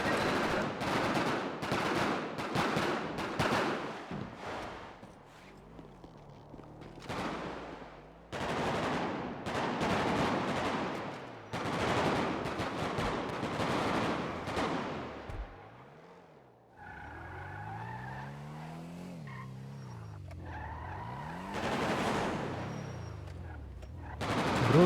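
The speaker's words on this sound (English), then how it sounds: "they keep shooting me" Video game gunfire in bursts of rapid shots, some loud and close and others more distant, with gaps in between and a background of vehicle and engine noise.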